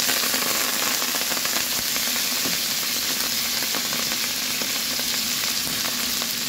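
Water spinach (kangkong) being sautéed in a hot pan, a loud, continuous close-up frying sizzle with faint stirring clicks scattered through it and no talking.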